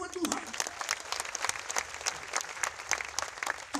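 A crowd at an evening church healing crusade in Manado claps in a scattered, uneven burst, with individual hand claps standing out. A voice briefly cuts in at the start and again at the end.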